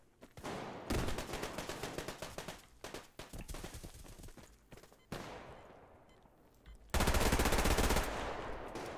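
Gunfire in the shooter game Survarium, with repeated loud bursts of automatic fire and rapid shots in clusters, broken by brief lulls, close and harsh throughout.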